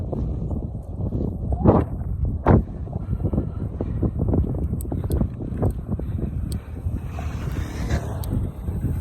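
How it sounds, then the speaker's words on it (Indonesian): Strong, steady wind roars across the microphone during a long road bike ride, loud and continuous, with heavy low buffeting and a few sharper gusts throughout. "Anginnya luar biasa."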